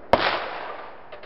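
A Mosin Nagant rifle fires a single sharp, loud shot at a steel plate and ballistics gel outdoors, its report trailing off into a long decaying echo, followed by two faint short knocks near the end.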